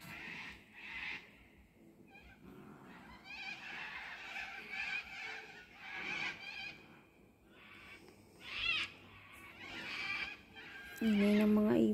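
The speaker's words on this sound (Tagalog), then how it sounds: "Ingay ng mga ibon." Several birds call and squawk in noisy bursts in a Queensland, Australia backyard after a bushfire, overlapping and fairly close, with a louder honking cry near the end.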